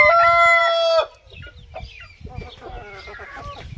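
A rooster crows loudly and close for about a second, then chickens cluck and murmur softly in the background of a backyard poultry yard.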